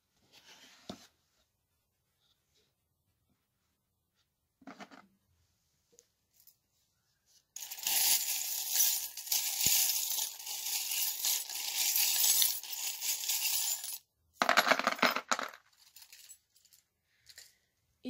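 Small metal divination charms are drawn and tossed, giving a few faint isolated clicks early on, then a long, dense run of close, bright clinking and jingling, and a final short burst.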